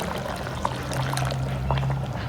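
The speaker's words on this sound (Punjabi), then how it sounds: "ਇਹ 'ਚ ਇੱਕ ਗਲਾਸ ਪਾਣੀ ਦਾ ਪਾਵਾਂਗੇ ਜੀ ਥੋੜਾ ਜਿਹਾ" A glass of water is poured into black chickpea curry, making a brief, close, continuous splashing pour over a low steady hum.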